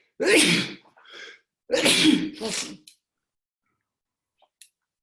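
Two loud, close sneezes, each a sharp burst followed by a softer tail, separated by a short pause, then quiet apart from a faint click; a single word is spoken.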